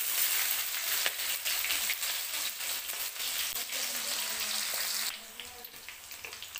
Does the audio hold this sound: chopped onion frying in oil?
yes